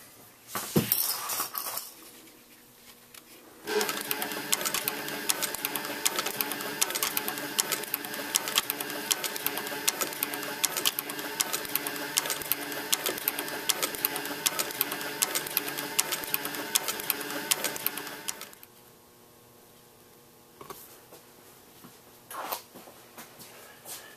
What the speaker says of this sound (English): we're going to take it over to the sewing machine and go ahead and sew that